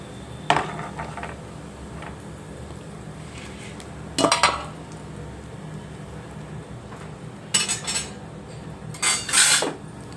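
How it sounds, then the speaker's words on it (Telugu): Onion paste going into hot oil in a pan while cooking potato kurma: a few sharp metal utensil clinks and knocks against the pan over a low background hum, nearby, without speech. "అదే ఆయిల్లో ఉల్లి ముద్ద వేసుకోవాలండి."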